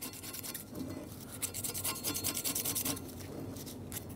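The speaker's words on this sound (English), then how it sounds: "Scrape that off and scrape off the rest of it." Old seal residue scraped off the axle shaft of a 2003-2009 Dodge Ram 2500 rear axle, a close, steady rasping rub with repeated strokes running throughout, no voices.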